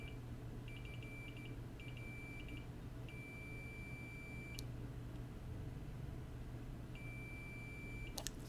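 A multimeter in continuity mode gives several short beeps and then a few longer sustained tones as the probes make contact. The beeps are faint but clear over a low background hum, with no talk.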